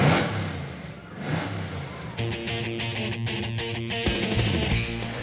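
A Ford Mustang race car, the No. 156 with over 400 horsepower, revs and accelerates with a steady, loud, mid-pitched engine roar that climbs through the gears and stays close, with faint voices underneath.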